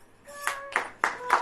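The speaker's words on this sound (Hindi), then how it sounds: "अब ताली बजाएं।" A church congregation claps hands in several distinct rounds of claps, close and moderately loud, with faint tonal sounds between them and no speech over the clapping.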